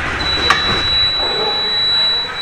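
A TVS Jupiter 125 scooter's side stand warning sounds as a steady, high electronic tone that holds almost the whole time, over a low engine rumble and a brief click near the start.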